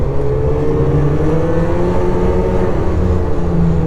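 Engine on an XS chassis RC car, throttle on clicker 1, holding a steady partial-throttle cruise with a continuous, even drone throughout, close and fairly loud.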